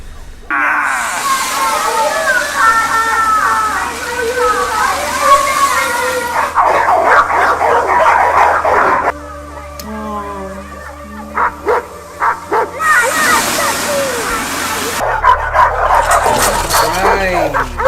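Trained dogs in a film scene bark and yip loudly in repeated bursts, with whimpers in between, while people talk over and between the barking.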